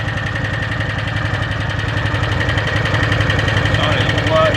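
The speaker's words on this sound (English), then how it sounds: "you can hear the tick" A 2013 Arctic Cat Wildcat 1000 H.O. engine idles with a rapid, steady mechanical ticking riding over its close, even rumble throughout.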